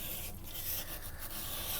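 A knife is sharpened on a waterstone, rotated forward up the belly line while the edge is turned from a V grind toward a convex, giving soft, continuous gritty rubbing strokes, close and quiet, with no voices.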